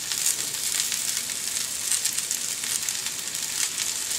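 Onion, sweet potatoes and apples fry in bacon grease, a steady close hiss and crackle of sizzling that carries on without a break and with no talking.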